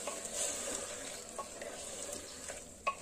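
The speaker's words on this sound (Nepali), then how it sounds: "अब मजाले चलाउनुपर्छ।" Stirring boiled pumpkin and chickpeas in a pressure cooker, soft scraping and wet sizzling close by, with a sharp clink near the end.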